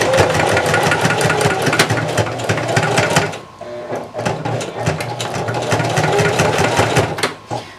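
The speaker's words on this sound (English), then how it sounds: "I'm just gonna sew back and forth with a straight stitch" Sewing machine running a straight stitch back and forth while reinforcing a seam on a vest, a loud continuous whirring hum with quick needle chatter, briefly easing off midway before resuming.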